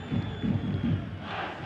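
A vociferous home crowd roaring inside Markazi Stadium at an evening AFC Champions League group match between FC Nasaf and Al Sadd, rhythmic chanting bursts rising over a constant dense stadium din.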